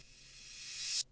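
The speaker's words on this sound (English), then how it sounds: "Reverse cymbal." A reverse cymbal effect used in song production swells from quiet to a bright, hissing peak, then cuts off abruptly just before the end, standing alone with no voices.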